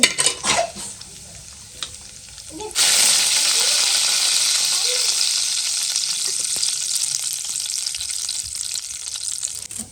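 After a few clinks, a steady bright sizzle of chana dal and urad dal frying in hot oil for tempering starts abruptly and continues to the end.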